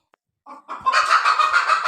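A hen clucks loudly and close by on a rooftop garden, giving a short run of steady, repeated clucks after two softer opening calls.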